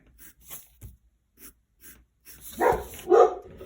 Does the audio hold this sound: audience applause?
no